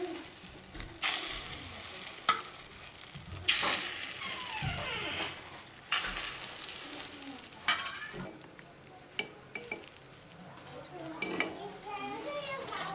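Egg paniyaram frying in the wells of a paniyaram pan, with a steady close sizzle broken by repeated metallic scrapes and light clinks as the pieces are turned and lifted.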